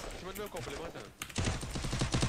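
Video game gunfire in a 6v6 match, a short burst followed by a voice, then a loud rapid stream of automatic shots after a brief lull.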